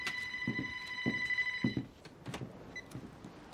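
A telephone rings with a bright, electronic ringing tone that sounds for a couple of seconds and then stops, heard fairly faintly alongside soft thumps and room noise.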